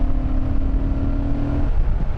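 A 2006 Honda Fireblade pulls hard at full throttle in 5th gear from around 4,000 RPM, a loud steady engine drone with a sustained low tone that shifts near the end.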